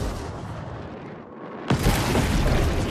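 A loud, roaring rocket explosion in the video game Gears Tactics bursts in partway through over continuous rumbling battle noise, heavy and booming with a long, noisy tail.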